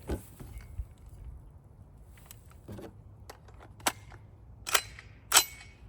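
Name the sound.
single round fired from AR rifle, 8.6 Blackout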